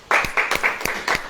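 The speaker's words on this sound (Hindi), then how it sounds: "ताली बजाएं" An audience at a Christian sermon gathering breaks into short bursts of applause, with several distinct claps standing out in a quick, uneven rhythm.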